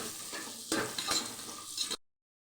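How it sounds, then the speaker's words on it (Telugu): Onions frying in a pot with whole spices for an egg biryani, a steady close sizzle with a few louder stirring scrapes, cut off abruptly near the end. "ఆనియన్స్ మంచి బ్రౌన్ కలర్ వచ్చే వరకు ఫ్రై చేసుకోవాలి"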